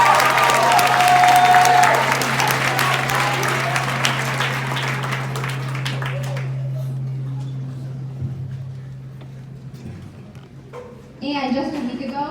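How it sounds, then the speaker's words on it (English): Eighth grade students applauding at a school ceremony, a burst of clapping that swells early then fades over several seconds under a sustained low hum, with a voice speaking near the end. "Clap it up for yourself."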